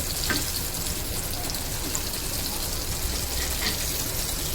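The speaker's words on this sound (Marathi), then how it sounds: "अशा पद्धतीने आपण फ्राय करायचं" Pomfret fish fries in a pan, a steady close crackling sizzle with an occasional light click, no voices.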